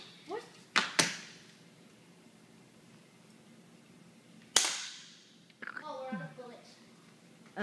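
A toy cap gun fired at a balloon gives a pair of sharp, close snaps, then a single loud crack a few seconds later, followed by brief talking.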